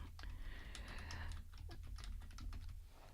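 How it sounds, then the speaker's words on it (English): Quiet typing of a message on a computer keyboard, a quick irregular patter of soft key clicks heard close up with no talking. "And then I'm just going to type in a message."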